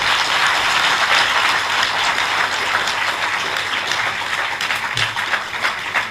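A theatre audience applauds loudly after a live stage play, dense sustained clapping filling the hall for several seconds with no voices over it.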